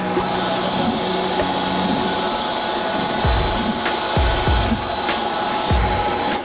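An xTool laser cutter works on a wooden plate, its fan and air-assist producing a steady, loud whirring hum with faint tonal whine, punctuated by a few soft low thumps in the second half; no one speaks.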